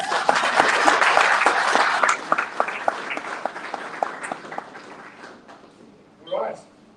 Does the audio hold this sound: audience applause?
yes